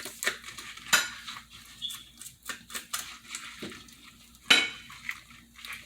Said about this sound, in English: So make sure to scrape off all the fins.